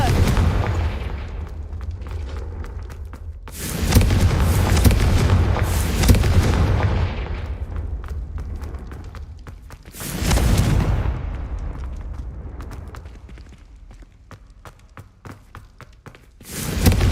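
Confringo blasting spell explosions in Hogwarts Legacy, several loud booming bursts with rumbling decays spaced seconds apart over game ambience, the last one cut off at the end.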